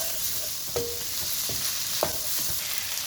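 Okra (bhindi) stir-fries on a high flame in a pan with a steady sizzle, broken by a few sharp scrapes and clacks of the spatula as it is tossed quickly, close and alone.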